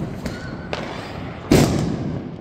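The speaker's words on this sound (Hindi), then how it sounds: "चारों तरफ बढ़िया बम वगैरह फट रहे हैं" Diwali firecrackers bursting nearby on a rooftop terrace, with a couple of soft distant pops and then one sharp loud bang followed by a lingering crackling rumble.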